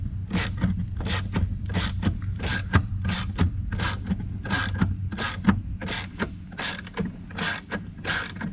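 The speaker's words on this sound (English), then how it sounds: "tighten up your nut the rest of the way" A ratchet tightening a nut on an oil separator bracket on a 2024-2026 Ford Ranger Raptor 3.0L: a close, steady run of about sixteen evenly spaced clicking pawl strokes, crisp and loud, with no talking.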